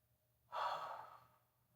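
A single slow, calm breath, a soft close exhale rising suddenly from near silence and fading gently over about a second in a quiet room.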